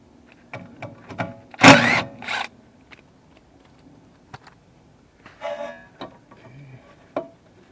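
Ratcheting with a 10 mm socket on a 2012 Mazda 3 sedan during trailing arm bushing work, heard as short bursts of dry mechanical clicking with a louder ticking flurry near the middle and quieter clicks between, close up.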